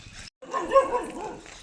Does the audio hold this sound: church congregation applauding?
no